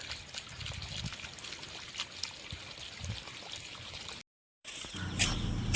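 Water trickles and gurgles through an old drip irrigation pipe in a farm plot, a soft steady flow interrupted by a brief gap before a louder surge of splashing.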